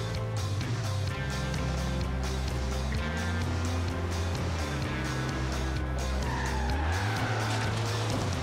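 A hypercar in Forza Horizon 3 slides through a long skid, its tires squealing in sweeping, wavering pitches over a loud, steady engine note, close and with no one speaking.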